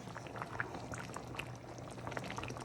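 Liquid boiling in a pot for matar paneer, a soft continuous bubbling and gurgling with small pops, quiet and close, with no speech.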